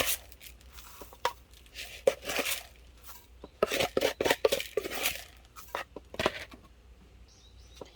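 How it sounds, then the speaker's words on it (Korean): Potting soil poured and pressed into a plant pot during repotting, with dense gritty scraping, crumbling and tapping bursts in uneven clusters, close by and without speech. "자, 이제 흙 넣어 줄게요."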